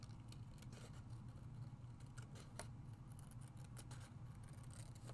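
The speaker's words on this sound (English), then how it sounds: "I'm going to cut this out with my scissors." Scissors snipping through paper in short, repeated cuts, fairly close, over a low steady hum in the background.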